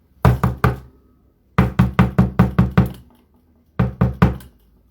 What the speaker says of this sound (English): The knock persisted.